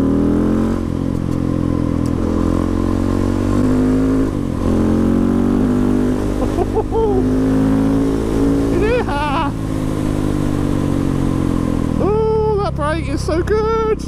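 A modified KTM 690 SMCR single-cylinder motorcycle engine revs loud and close while riding, pitch rising and falling through gear changes with sharp blips near the end, continuous throughout.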